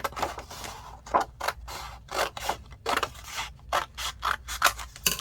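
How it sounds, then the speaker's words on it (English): Scissors cutting through paper hinges for a mixed-media pocket folder: a steady run of quick, crisp snips with a close, rhythmic, slightly mechanical click on each closing, loud and alone. "You want to cut these hinges out."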